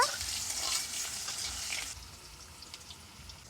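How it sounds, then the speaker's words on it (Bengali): Potatoes frying with mustard seeds, a bright close sizzle that drops sharply in loudness partway through and then leaves faint crackles and light stirring taps. "দিয়ে দিয়েছি আলু আলুটা একটু ভেজে নেব"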